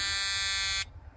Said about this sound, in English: So it's detecting a little bit of a leak right there at the actual input to the tank.